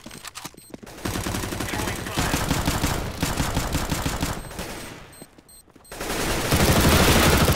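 Rapid automatic gunfire rattles through a CS:GO competitive match: long, loud bursts of fast shots sound close, briefly drop away into a near-silent pause, then return even louder and denser.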